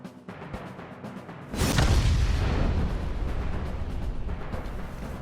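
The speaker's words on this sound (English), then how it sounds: "Sometime later, the burning fuse inside the body reaches the explosives." A deep, loud explosion from the video game AI: The Somnium Files, a burning fuse inside a body setting off explosives, bursting suddenly after a quieter lead-in and rumbling on with a long roaring tail.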